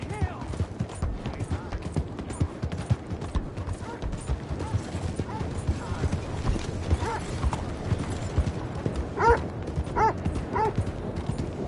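A horse gallops in Red Dead Redemption 2, rapid hoof clip-clops driving steadily under game ambience, with brief voice and dog-like yips mixed in.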